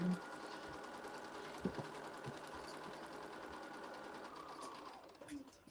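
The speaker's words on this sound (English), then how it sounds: "Back to the sewing machine." Steady whirring stitching of a sewing machine sewing fabric for foundation paper piecing, running continuously at a fairly low level with a couple of faint clicks, then easing off near the end.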